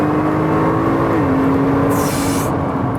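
Nissan GT-R accelerating hard, a loud, steady engine drone with a rising and shifting tone, close and continuous with no talk.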